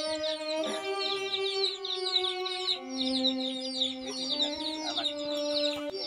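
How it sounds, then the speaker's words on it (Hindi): Caged roosters and hens clucking and calling nearby, overlapping continuous cackles and crowing-like notes in a steady chorus with no talk. "ये मुर्गे, ये इनको बंद क्यों किया हुआ है आपने?"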